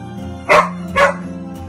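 A dog gives two short barks close by, evenly spaced about half a second apart, over a low steady background hum.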